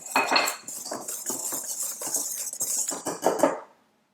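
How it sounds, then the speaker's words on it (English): A whisk clatters quickly against the sides of a stand mixer bowl, stirring salt into a dry flour mixture for honey bread, a steady close metallic scraping and clinking with no talk. "I'm just going to use a whisk to give that a mixture"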